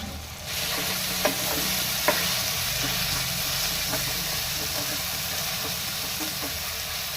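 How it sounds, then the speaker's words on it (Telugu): Ingredients for mutton paya curry fry in a hot pan, giving a steady, dense sizzle up close, with occasional scrapes and taps of a spoon stirring through the mixture. "ఇది ఒక 2 నిమిషాలు వేయించుకుందాం."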